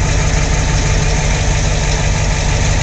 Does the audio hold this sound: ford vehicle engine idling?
yes